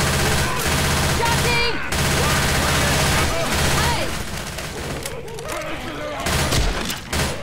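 Rapid automatic gunfire in Left 4 Dead 2: dense, loud bursts of shots with barely a gap, with voices talking underneath.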